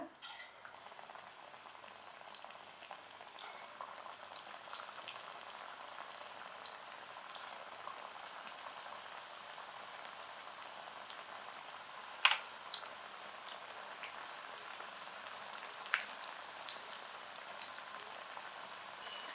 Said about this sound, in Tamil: இப்போ வந்து நான் பக்கோடா போட்டுறேன்.